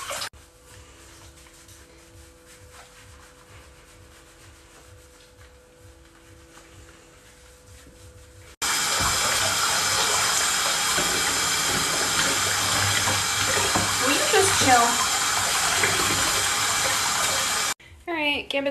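Bath water runs from a tap in a steady, loud rushing flow that starts abruptly partway through after a quieter stretch and then cuts off near the end, with a voice heard.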